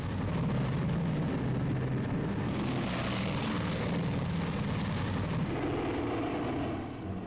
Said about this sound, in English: The last B-29 is airborne at 1540.